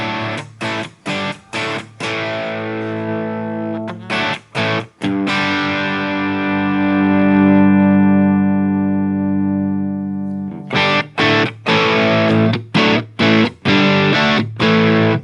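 Electric guitar through an Orange Rockerverb amp modeled in a Helix, with drive cranked, chugs in tight, palm-muted bursts, then rings out sustained chords before resuming the choppy rhythm; loud and saturated.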